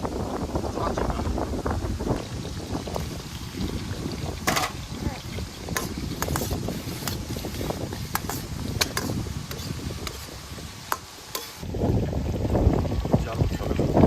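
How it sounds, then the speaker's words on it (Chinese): Strong gale blowing outdoors near a well house in Wenquan County, Xinjiang, with steady, loud wind rumble, buffeting the microphone and occasional sharp clatters, easing briefly then surging again near the end. "这不刮狂风了"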